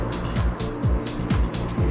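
A Renault car with a 1.5-litre diesel engine drives along the road, giving a steady close engine and road roar with periodic low thumps and swells as it moves.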